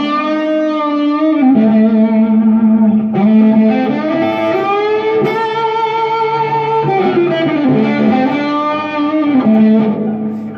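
A sustained melodic instrument plays slow, legato notes that shift gradually with a smooth washed tail from an effects unit's reverb. It is loud and continuous, with no talking.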